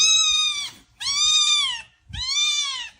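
A cat gives three long, loud, drawn-out meows close up, evenly spaced, while it is being fed.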